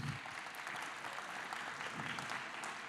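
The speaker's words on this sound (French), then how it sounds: "qu'on peut applaudir" An audience at a public climate debate on aviation applauds the mayor of Blagnac, a sustained, even wash of many hands clapping from a seated crowd with no speech over it.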